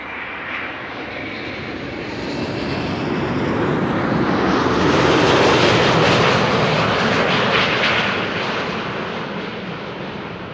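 A Delta Airlines airliner from Salt Lake City arrives at Amsterdam Schiphol Airport, its engines swelling into a loud broadband roar as it passes near and then fading slowly, with no voices.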